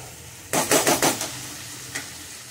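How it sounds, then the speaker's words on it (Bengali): A tomato mixture being stirred in a pan over high flame for upma: a quick burst of four or five close scraping, sizzling strokes, then a single lighter scrape over a quiet background. "হাই ফ্লেমে করে এটাকে আমি নেড়ে নেব যাতে জলটা ঝট করে, টমেটোর জলটা ঝট করে শুকিয়ে যায়"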